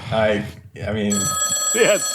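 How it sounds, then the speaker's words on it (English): A telephone bell rings with a steady, bright electronic trill that starts partway through and keeps going, while a voice speaks briefly over it. "I think that's the phone ringing."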